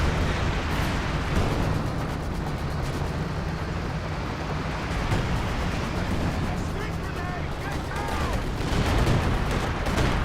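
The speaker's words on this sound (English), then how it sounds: "Got a barrage here. It is the heavy mortar barrage." Heavy mortar barrage in the wartime strategy game Company of Heroes 2, a dense rumbling wash of distant explosions and crackling gunfire running steadily throughout, with a few sharper blasts near the end.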